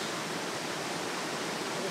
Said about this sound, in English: I don't think I've ever photographed a waterfall quite this close.